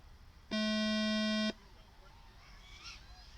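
A single steady electronic start tone sounds for about one second at a drone racing event, clear and buzzy, followed by quiet background noise.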